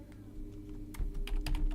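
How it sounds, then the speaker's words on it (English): Keys on a computer keyboard clack in a quick burst of typing, light and sparse at first, then denser, nearer strokes with a low background hum throughout. "Let me type this in."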